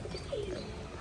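Pigeons coo in a home loft with a soft, low, wavering murmur. One short coo rises over a steady background hiss.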